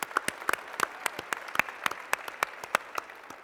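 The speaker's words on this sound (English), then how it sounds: "Can we give Cheryl and the host committee a round of applause?" A conference general-session audience applauding, heard as a quick run of distinct, evenly spaced claps at moderate volume, sounding like a modest number of hands rather than a roaring crowd.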